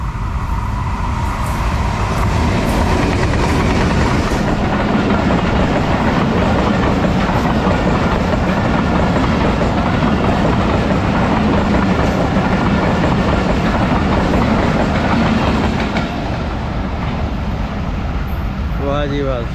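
A late-running Awam Express hauled by a ZCU locomotive races through a station near Ahmedabad without stopping, producing a loud continuous roar of wheels and carriages with rhythmic clatter that holds for the whole span.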